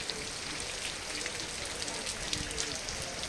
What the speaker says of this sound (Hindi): ऊपर से जो बारिश हो रही है साथ ही साथ मस्त है